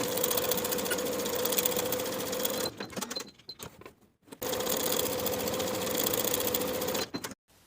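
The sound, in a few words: sewing machine sewing pants pocket seam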